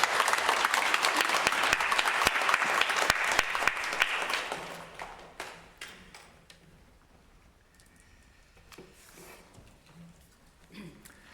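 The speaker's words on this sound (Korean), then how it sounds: "힘차게 우리 환영의 박수 한번 칠까요?" A church congregation at a Christmas service applauds in welcome. The clapping is dense and lively for about four seconds, then thins into scattered claps and fades into quiet room sound.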